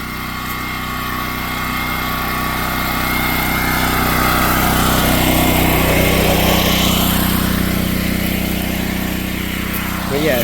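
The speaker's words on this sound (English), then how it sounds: "it's gonna be loud going by the generator" A generator runs loudly beside a river water pump, a steady droning engine hum that holds constant and swells slightly as it is approached.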